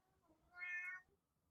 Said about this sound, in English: Somebody come get this cat.